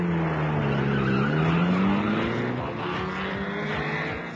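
Stunticon cars racing along a road in a Transformers story, heard as a loud, steady engine roar with a sweeping rising and falling pitch, like vehicles speeding past close by, with no voices.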